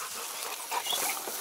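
A German Shorthaired Pointer gives a faint, brief whimper with soft panting breaths, close by and without talk.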